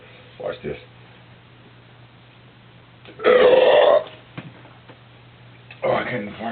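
Burps after drinking Coors beer: a few short belches early, then one long, loud drawn-out burp in the middle and another rough burp near the end, close up over a faint steady hum.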